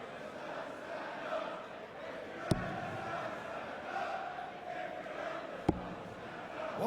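A packed, party-mood crowd at the 2013 World Darts Championship, Van Gerwen against Wright, keeps up a continuous roar of cheering and chanting, with two sharp loud knocks cutting through the noise.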